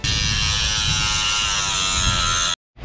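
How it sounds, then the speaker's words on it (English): A Dremel rotary tool grinding out a stuck part from a gearbox rebuild, a steady high-pitched buzzing whine held loud and close for over two seconds before cutting off abruptly. "I used the Dremel"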